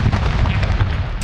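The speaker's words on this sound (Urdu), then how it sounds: "دن کا آغاز نماز فجر، ملک کی سلامتی کی دعاؤں اور توپوں کی سلامی سے ہوا۔" A cannon salute fired at dawn for Pakistan's 69th Independence Day: a loud, continuous low booming rumble that fills the clip with no pauses between blasts and no voices.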